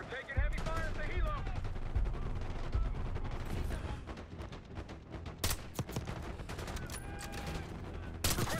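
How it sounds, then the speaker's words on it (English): Heavy gunfire rattles through a Call of Duty Black Ops 6 battle near a crashed Halo site, dense automatic bursts and sharp cracks layered with rumbling explosions, loud and continuous, with game voices talking over it. "We're taking heavy fire at the Halo."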